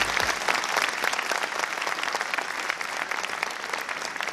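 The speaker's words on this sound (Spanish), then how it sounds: "Un fuerte aplauso al Señor" An audience at an evening welcome ceremony in Bolivia's government headquarters applauds steadily, a dense wash of clapping at moderate distance that holds without a break.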